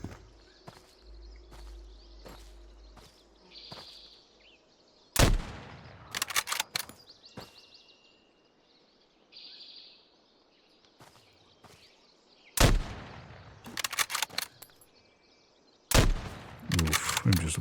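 Bursts of gunfire from the survival shooter Road to Vostok, fired during a raid on an outpost, come in three loud broadband volleys separated by quieter stretches of footsteps and faint ambience.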